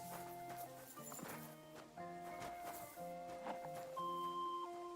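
A horse in the medieval video game Kingdom Come: Deliverance 2 clip-clops nearby with hoof steps and a brief whinny, quiet and mixed with sustained musical tones.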